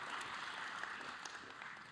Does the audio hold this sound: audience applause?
yes